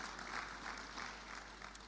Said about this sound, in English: So a round of applause, please, for our dean and his team.